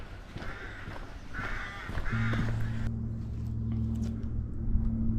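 A crow caws several times amid background birdsong along a rural trail, with a steady low hum joining partway through.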